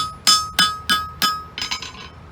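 Four evenly spaced, ringing hammer blows on a hot old wrench being forged into a cap lifter, each strike bright and metallic with a short decay, followed by a quicker cluster of lighter taps, close and alone.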